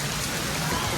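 Steady rain pours down at an open-air roast duck spot beside rice paddies in Ubud, Bali, a dense, even hiss of drops with no pauses.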